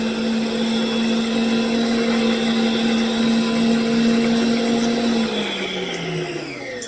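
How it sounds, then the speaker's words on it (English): An AceKool stand mixer runs at speed 10 kneading pizza dough, a loud steady motor whine that holds constant, then winds down in pitch near the end, no talking. "So turn it up to speed 10, mixing it very quickly"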